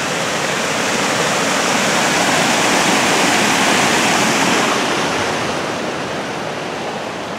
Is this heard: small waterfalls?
yes